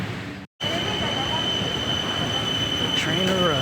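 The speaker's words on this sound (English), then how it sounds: "The train arrives." A train pulls into a station with a steady rumbling roar, a sustained high wheel squeal and brief metallic screeches near the end, loud and close with no talk.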